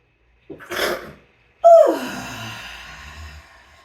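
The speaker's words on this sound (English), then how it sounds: "I'm about to sneeze" A single close, loud sneeze: a sharp intake of breath, a short pause, then an explosive burst trailing off into a breathy exhale.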